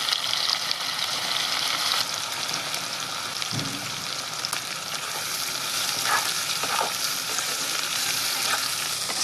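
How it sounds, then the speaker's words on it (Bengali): Onions sizzle in hot oil in a kadai alongside cumin seeds and whole garam masala spices, a steady, close, dense frying hiss with no talking. "পেঁয়াজটা আমি লাল লাল করে ভেজে নেব"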